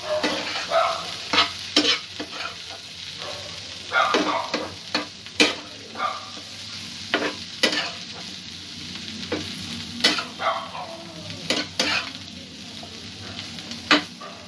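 Potato and sweet corn curry sizzles in a pan as a spoon stirs it, with repeated sharp scraping knocks in an irregular rhythm over a quiet, continuous frying hiss, no voices.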